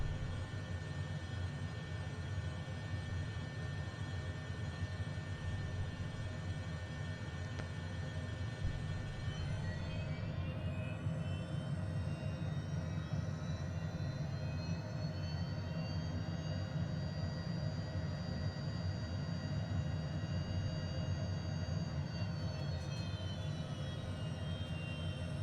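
HondaJet HA420 light business jet in Microsoft Flight Simulator, its engines running at a steady idle-to-low-power drone with a faint rising whine partway through as it begins rolling, continuous and fairly loud with no talk.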